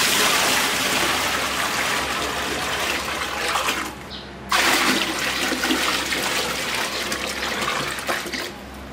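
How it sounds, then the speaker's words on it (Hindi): Water is poured into the tank of an air cooler, a steady loud splashing gush that stops briefly partway through and then resumes, heard up close. "तो अभी यहाँ पे पानी डालेंगे।"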